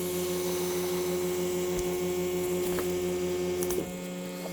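A vacuum pot pump used for stabilizing a birch bowl blank hums steadily and loudly throughout, a constant electric drone with a slight shift near the end.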